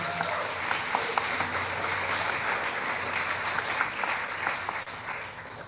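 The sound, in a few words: audience round of applause for resident leaders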